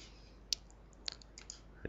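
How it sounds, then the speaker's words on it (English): Computer mouse clicked while opening the HP printer utility setup on a computer, heard as a few quiet, sharp clicks spread apart over faint background hiss. "Just double clicking it."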